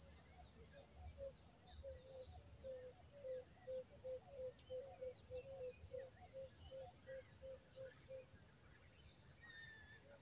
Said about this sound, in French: Restez concentré sur le chant des oiseaux de la forêt et ce vent frais de cette matinée.